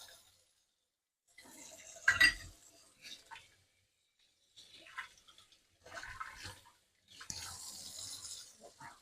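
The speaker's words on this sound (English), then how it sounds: "Wash the hand with the glove." A gloved hand rinsed under a running tap in a kitchen while baking a custard cake, with intermittent splashing bursts of water and small clinks separated by quiet gaps.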